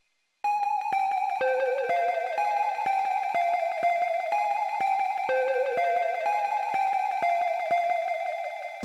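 Synth line of bright, bell-like repeating tones, pulsing in a steady rhythm with delay and reverb smearing each note, playing alone and fairly loud for about eight seconds.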